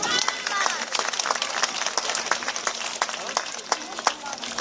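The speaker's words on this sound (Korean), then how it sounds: "지원해주신 분들에게 큰 박수를 부탁드립니다" Audience applause at a district community event in Buk-gu, Daegu: dense, crackling clapping from a crowd with voices mixed in underneath, continuing steadily throughout.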